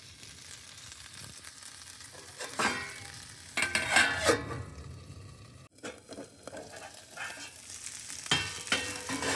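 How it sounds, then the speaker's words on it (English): Fish fries in a pan on a stove: a sustained sizzle that swells with bursts of scraping and shifting in the pan, moderately loud and close, with no voices. "Now let's move this over here and cook up our fish."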